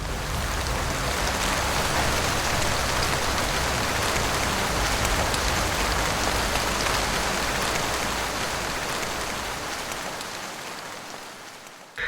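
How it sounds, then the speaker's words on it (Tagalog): Heavy rain pours down in a dense, steady wash of patter on surfaces, loud and unbroken, gradually thinning slightly toward the end. "Hanggang sa maya-maya pa ay siya na ring pagpatak ng malakas na ulan."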